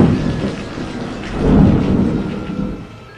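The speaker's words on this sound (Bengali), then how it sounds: "সঙ্গে সঙ্গে কানে তালা লাগানো মেঘের গর্জন।" Deep rolling thunder roar used as a sound effect in a Bengali ghost story, a loud low rumble that swells to a peak midway and then fades away, with no speech over it.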